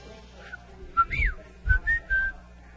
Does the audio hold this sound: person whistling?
yes